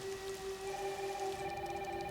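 Heavy rain pours down in Resident Evil Requiem as a steady, dense hiss, with a sustained low hum running underneath the whole time.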